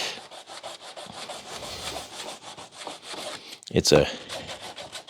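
A sanding block made of a 2x4 wrapped in a belt sander belt rubs back and forth on wood in quick rhythmic rasping strokes, close and steady, with a brief spoken word near the end.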